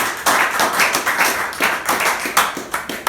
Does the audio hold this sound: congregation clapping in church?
yes